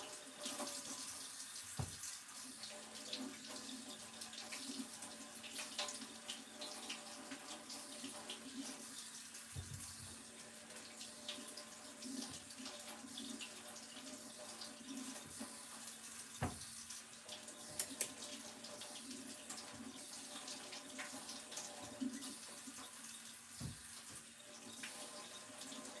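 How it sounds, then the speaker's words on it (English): Potatoes rinsed under a running kitchen tap, a steady hiss of flowing water with occasional knocks and clunks as they are handled, fairly quiet and without talk. "All right, give these a quick rinse."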